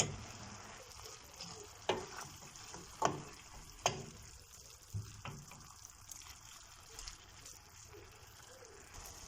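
Cooked chard being stirred in a pot, a faint background sizzle under several distinct spoon knocks and scrapes, spaced a second or two apart and fading toward the end, heard up close.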